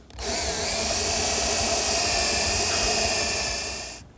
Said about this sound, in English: the next step is to drill some holes through for dowel pins